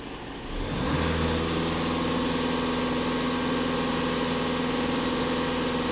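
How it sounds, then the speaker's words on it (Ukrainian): A VW Passat B8 2.0 TDI diesel engine is held at full throttle, a loud, steady high-rev drone rising in the first second and then sustained evenly with a constant hum. "Даємо газ в пол."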